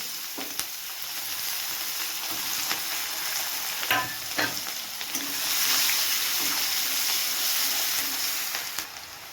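Onion added to hot oil with cardamom and bay leaf for mutton curry sizzles and fries steadily, with a few sharp clinks of a utensil against the pan and a swell of hissing partway through.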